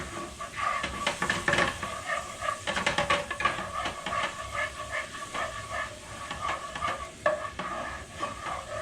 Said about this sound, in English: Deglaze, you get all them good little bits